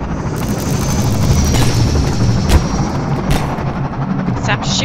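Gunfire in the video game Half-Life 2, with loud, continuous sound including rapid shots and a heavy whirring drone like a helicopter, while a voice speaks over it.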